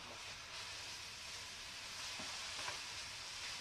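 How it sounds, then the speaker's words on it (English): Chicken fried rice gets stirred in a pan, a faint, even frying hiss with soft scraping and a few small clinks, and nobody speaking. "And we stir it around"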